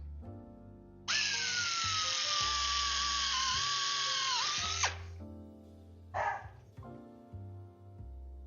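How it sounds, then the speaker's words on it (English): A power drill whines steadily into an airplane fuselage panel for several seconds with a wavering pitch, then stops, followed by a brief second burst; loud and close, with no talking. "let's drill."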